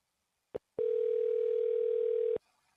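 A steady telephone dial tone plays during a cold call, a short blip first, then a sustained even electronic tone lasting about a second and a half before cutting off, clear and alone with no talking.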